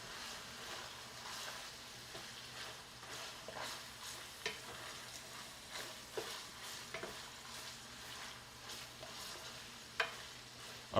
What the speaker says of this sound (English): Can you hear the sizzle?